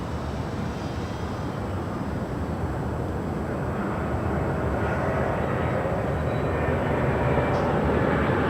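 A Delta Airlines airliner passing at LAX, a continuous broadband jet rumble that slowly builds in strength, heard alone without voices.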